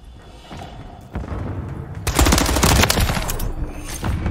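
Dense automatic gunfire with heavy booming impacts from a Call of Duty Modern Warfare 3 multiplayer match, starting sparse and faint, then erupting into a loud, sustained rattling burst for the last two seconds.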